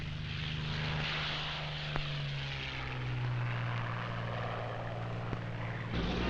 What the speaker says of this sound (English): aircraft which had been brought by ship from Britain and reassembled on the Rock were flown off to Tunisia